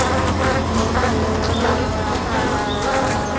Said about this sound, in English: Vibrating the muscles of their wings, the honeybees are cooking the wasp.